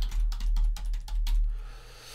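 Email address typed on a computer keyboard, a short burst of rapid close key clicks in an uneven rhythm, tapering off after a second and a half with no voice.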